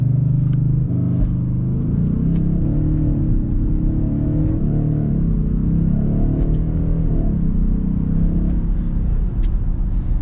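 A 2020 Audi S6 diesel pulls away from a stop with a deep, steady engine rumble that builds and shifts in pitch over about ten seconds, heard from inside the cabin with no talk.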